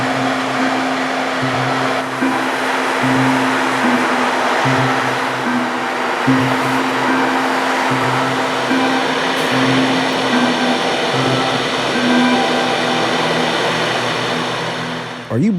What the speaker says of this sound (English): YN2 CSX AC44s chilling here in idle, leading some local job coming out of Howell